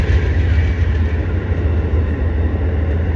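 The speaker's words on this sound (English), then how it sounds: "But that's a passenger train, isn't it?" A loud, steady low rumble of a passing Amtrak passenger train, continuous and close, with no voices.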